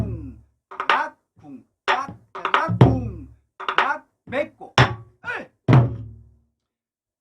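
A Korean buk drum is struck in a jajinmori rhythm, giving short thumping hits in lively groups while a voice chants the rhythm syllables along with the strokes, imitating the drum pattern.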